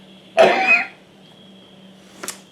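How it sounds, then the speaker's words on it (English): A single sharp cough bursts out, followed after a pause by a short, softer throat sound. "I'm probably going to cough a bit"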